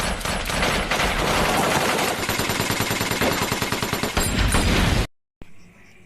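Dense gunfire in a firefight near a downed Black Hawk helicopter, sustained loud machine-gun bursts for about five seconds, then a sudden cutoff and brief quiet.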